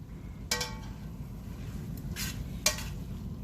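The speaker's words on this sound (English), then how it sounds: "I'm gonna stir that in" Collard greens in a cast iron pot are stirred with a utensil, giving a few distinct metallic scrapes and knocks over a low, steady simmering rumble, close and with no talking.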